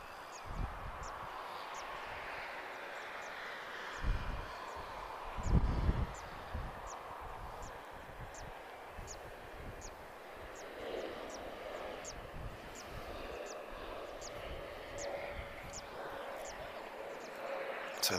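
A TAP Express Embraer E195 long range arriving at Lisbon from Marrakesh produces a steady engine whine and rumble, fairly faint, with intermittent voices and a few louder thumps over it.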